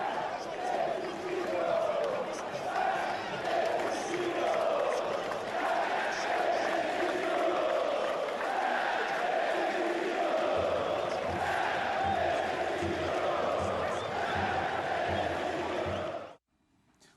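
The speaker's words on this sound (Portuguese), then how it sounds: "A gente tem gritos da torcida." Santos football supporters chant in unison before a Brazilian league match against Vasco, praising coach Marcelo Fernandes; a large crowd sings in a steady rhythmic cadence throughout, loud and sustained, with a brief low rumble joining near the end before it cuts off.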